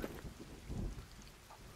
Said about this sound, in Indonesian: Pasti hujan langsung ya